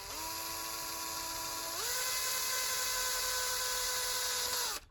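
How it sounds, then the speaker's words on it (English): A small power drill bores a hole into a broken zinc washing-machine door hinge piece, a steady high whine that steps up in pitch partway through and then cuts off abruptly. "I think it'd be better to drill a hole really"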